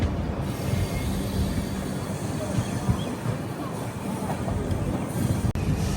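Train pulling out of Marwar Junction, a steady rumbling roll with faint hiss and rattling carriage noise, continuous and moderately loud throughout.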